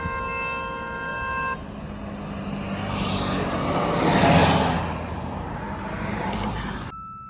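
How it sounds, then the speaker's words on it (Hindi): A vehicle approaches on a road near a temple in Indore, sounding a horn at the start, then a rising engine and tyre rush that swells to a peak and fades as it passes, with a brief horn tone at the end. "वो गाड़ी आ रही"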